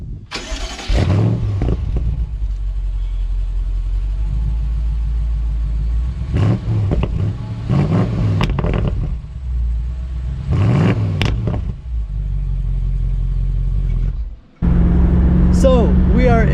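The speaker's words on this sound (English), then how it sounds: "This car just sounds absolutely incredible. Listen to this crackle." A 2020 BMW M850i Convertible's V8 idles with a deep rumble, then revs in several sharp bursts that fade with pops and crackles, loud and close, with people talking between revs.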